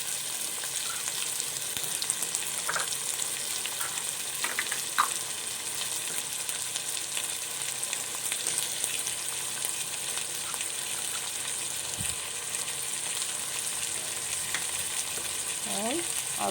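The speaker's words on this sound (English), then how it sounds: "I am going to add the carrots, beans," Carrots, beans and green peas fry in a hot pan for hotel-style biryani, giving a steady, dense sizzle throughout with a few faint clinks and stirring sounds, close and continuous.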